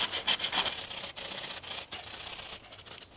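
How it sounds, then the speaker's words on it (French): A hand saw cuts through a tree branch in close, steady back-and-forth strokes, each rasping pass briefly broken by short gaps. "Alors quand vous sciez, surtout essayez de le scier"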